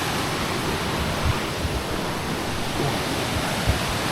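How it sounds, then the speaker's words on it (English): Steady broadband roar of a waterfall seen from a hiking trail, a constant rushing wash of water with no voices, even and moderately loud throughout. "it's the first view of the waterfall"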